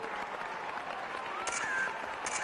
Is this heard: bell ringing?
no